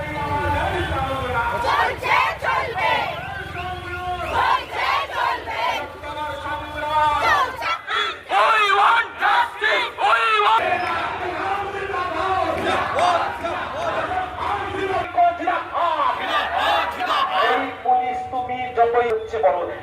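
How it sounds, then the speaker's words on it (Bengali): Protesters in Krishnanagar chant a one-point slogan demanding the Chief Minister's resignation, a loud, rhythmic crowd of voices repeating in unison with brief pauses between phrases. "দাবি এক দফা এক, মুখ্যমন্ত্রীর পদত্যাগ, এইটাই তাদের স্লোগান ছিল"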